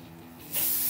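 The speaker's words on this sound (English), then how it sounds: "listen to that sizzle." A quiet low hum gives way halfway through to a loud, steady sizzling hiss of marinated carne asada hitting a hot grill, continuing without talk.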